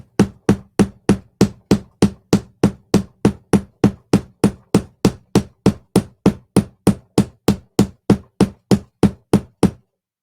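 A hammer pounds fabric backed with interfacing, about thirty sharp, close strikes in a steady, quick rhythm of roughly three per second, with nothing else heard between them.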